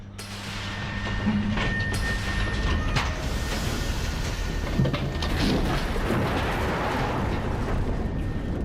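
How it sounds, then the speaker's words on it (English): A loud, continuous rumbling roar with rattling broadband noise, like a heavy train rushing past close by, steady for the whole stretch, from the video game BioShock 2 Remastered. "was a very noisy train."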